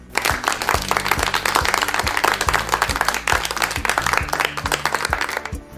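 A loud burst of applause plays as a sound effect in a radio lesson, dense steady clapping from many hands that lasts several seconds before tapering off.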